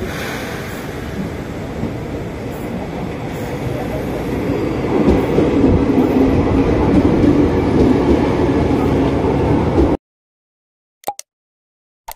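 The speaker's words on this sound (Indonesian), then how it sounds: "rangkaian masuk stasiun Taman Kota menuju stasiun duri" A KRL commuter train, TM 6116, rolling into a station near Jakarta: a loud, steady rumble of wheels and running gear that swells midway, then cuts off abruptly, followed by a few faint clicks.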